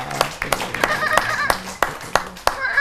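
An audience claps for a children's dance depicting young goats, with sparse, uneven claps and some voices at a school-style performance.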